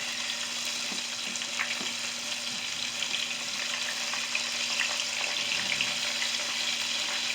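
Pickled okra deep frying in hot oil, a continuous dense sizzle and crackle with faint stirring sounds, steady and close with no talking.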